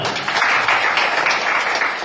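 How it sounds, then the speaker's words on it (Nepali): An audience at a ministry school graduation ceremony claps together in a dense, steady burst of applause that fills the room, with no individual claps standing out. "हामी ताली बजाइदिउँ न"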